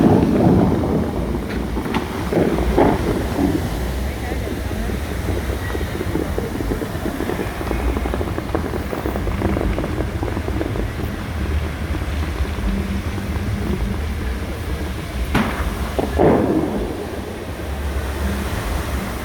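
The Bellagio fountain water show in Las Vegas sends up a loud, continuous rushing roar of spraying water with deep rumbling undertones, broken by a few brief bursts near the start and end.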